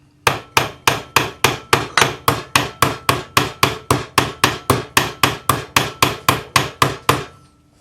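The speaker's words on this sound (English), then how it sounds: "We just go on our little bench block, take the hammer that you made the marks with" A hammer strikes a metal bangle on a bench block in a steady, evenly spaced series of about two dozen sharp, ringing blows, close and loud with no talk.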